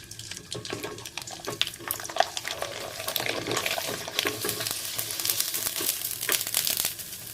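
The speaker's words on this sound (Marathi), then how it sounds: "इथे मी छान तेल तापवून घेतलं आहे। आता आपण पापड तळूया।" Potato-sabudana papad frying in hot oil, a steady crackling sizzle with dense bubbling and popping throughout, close and fairly loud with no voices.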